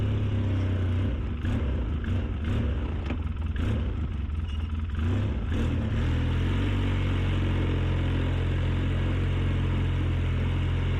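Four-wheel-drive vehicle crossing a muddy field, its engine rumbling close and loud, shifting pitch early on with some knocks and clatter, then settling into a steady low drone.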